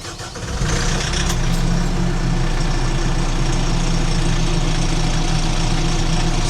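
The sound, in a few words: FOX L25 loader engine running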